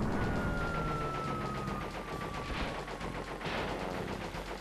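Rapid gunfire from the Crash Bandicoot 3 video game, a dense continuous rattle of shots over a busy game soundtrack, steady and loud throughout with no talking.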